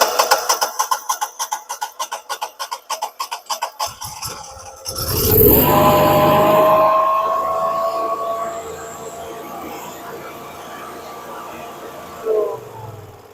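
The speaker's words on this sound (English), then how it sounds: "you'll hear the generator fire up and it'll run an exercise" An older Generac home standby generator sits ticking rhythmically for a few seconds, then cranks and fires up into a steady running drone for its weekly exercise, with a brief clunk near the end.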